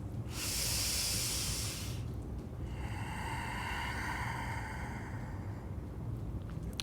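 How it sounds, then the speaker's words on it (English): Deep breathing during a hatha yoga flow: a long airy inhale, then a slower, softer exhale over steady room noise, close to the microphone with no talking. "Take a couple breaths."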